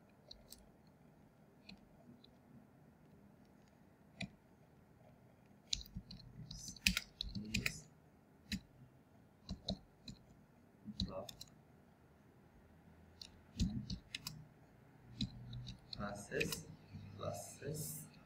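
HTML code is typed on a computer keyboard in quiet, irregular bursts of light clicks and key taps, spread out and sometimes clustered into quicker runs.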